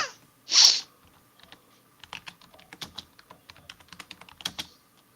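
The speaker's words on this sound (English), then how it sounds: "What are you typing there, Billy?" Rapid typing on a computer keyboard, a steady run of light, close key clicks after a short burst of noise at the start, with no talking.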